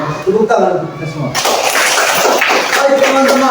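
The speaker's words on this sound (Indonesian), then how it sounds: "Tepuk tangan untuk kita semua." Children in a third-grade classroom break into loud, dense clapping after a voice speaks, the applause sustained and close with more voices mixed in.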